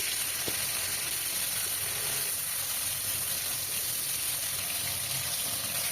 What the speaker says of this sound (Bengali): এরপর কড়াইতে দেখুন সর্ষের তেল দিয়ে দিলাম। তেল ভালো মতো গরম হলে মাছগুলো দিয়ে দিলাম।